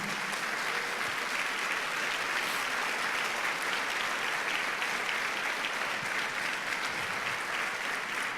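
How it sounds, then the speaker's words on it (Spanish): A church congregation breaks into a full, steady burst of applause that stays loud and dense throughout, with no talking over it. "deberíamos darle un fuerte aplauso a nuestro Señor Jesucristo"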